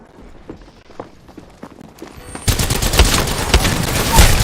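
Gunfire in Apex Legends: scattered shots at first, then a dense, loud burst of rapid fire that erupts midway and continues to the end.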